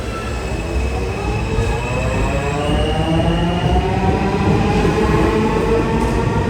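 Queensbound F local subway train running underground toward 21st Street–Queensbridge, a steady loud rumble of wheels on rail with faint squealing and rising whine tones throughout, no talk.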